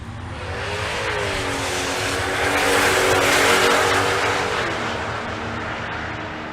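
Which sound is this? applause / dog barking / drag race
drag race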